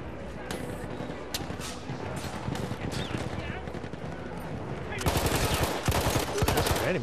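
Rapid gunfire and heavy bursts from the Battlefield 1 campaign, a steady stream of shots under excited voices, swelling into louder dense automatic fire near the end.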